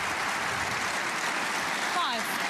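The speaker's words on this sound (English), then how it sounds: "Yes, that applause was premature" Applause breaks out too early at a snooker match in the German Masters final. It is a steady wash of audience clapping with a commentator talking over it.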